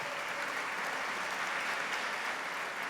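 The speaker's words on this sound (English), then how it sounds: "Give them all a round of applause." An audience gives a sustained round of applause for honorees at a foundation awards event, dense steady clapping from a large crowd throughout.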